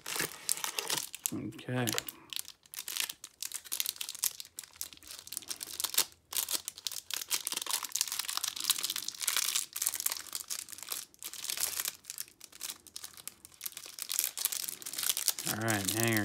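Cardboard and plastic wrapping crinkle and tear almost continuously as a hanger box of 2022 Series 1 baseball cards is opened up close, with someone speaking briefly over the crumpling.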